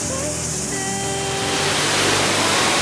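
The waterfall at Wainui Falls gives a loud, continuous broadband roar of rushing water that fills the whole stretch, with no voices.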